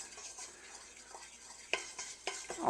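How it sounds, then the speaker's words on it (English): A spoon scrapes and stirs a gumbo roux in a pot, soft steady scraping with a faint sizzle and a few sharper clinks toward the end, close by with no voices. "we're just going to stir it up a bit to make sure it's well mixed"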